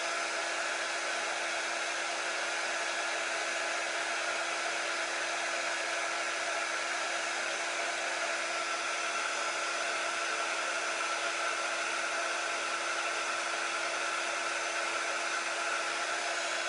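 A heat gun able to reach about 1,000 degrees blows hot air for silk-screen craft burning. It makes a constant, even whooshing hum with a steady motor whine, close and uninterrupted throughout, with no talk.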